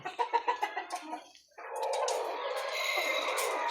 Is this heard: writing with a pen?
no